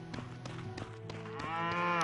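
Cows moo on a farm in the video game Potion Permit, a few close, drawn-out lowing calls with the last one swelling louder, heard alone without talk.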